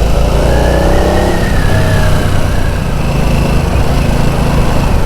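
Harley-Davidson Sportster Nightster 975 motorcycle engine running steadily during a ride, a loud, continuous close-up drone with a rising rev partway through and rushing wind noise throughout.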